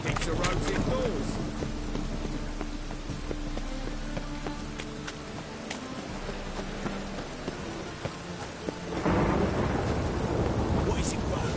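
Rain and thunder in The Witcher 3 game world: steady rainfall with low rolling rumbles, growing louder near the end, with a voice talking over it.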